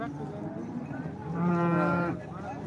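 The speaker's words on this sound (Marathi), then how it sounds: "एकदम चमकबाज गाय आहे" A cow at a cattle market gives a single close, loud moo lasting about a second, rising out of a low murmur of background noise.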